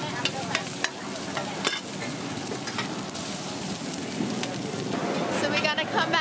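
Oysters fry at a busy Penang street food stall, making a loud, dense, continuous sizzle with clattering and scraping, and voices come in faintly near the end.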